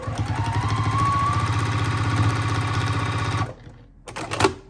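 A sewing machine runs fast and steadily, stitching binding strips onto a quilt, a loud close mechanical whir that stops abruptly, followed by a short rattle.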